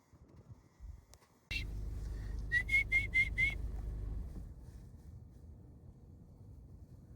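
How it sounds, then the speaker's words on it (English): Prairie dogs give a run of five short, sharp high whistles in quick succession, fairly close, over a steady low rumble of wind or traffic outdoors in Colorado. "Little prairie doggers. Oh my gosh, look at it. You hear them whistling?"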